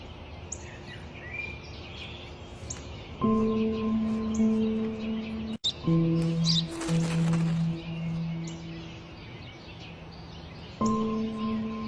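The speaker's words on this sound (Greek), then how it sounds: "είναι ένα σπουργίτη!" Short bright chirps from a sparrow come in bursts, with harmonic tones sounding in clusters and brief gaps between them, close by and fairly loud.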